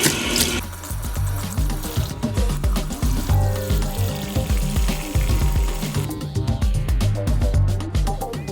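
Running water rinses a Commodore PET analog circuit board, a continuous splashing, gurgling pour from a tap or sprayer with uneven surges, close and fairly loud, with no talking.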